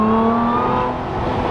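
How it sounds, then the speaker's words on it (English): A Koenigsegg supercar accelerates, its exhaust a loud, sustained, close drone with a whining tone that rises slightly and then settles, heard alone without talk. "Now I'm gonna keep quiet so you can hear the exhaust."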